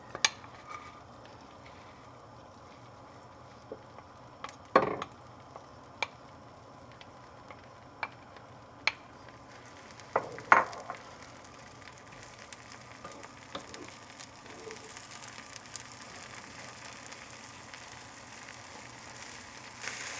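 Butter melting and sizzling in a pan while cooking Persian barberry rice with chicken, a soft steady fry under scattered clicks and taps of utensils, growing slightly busier toward the end.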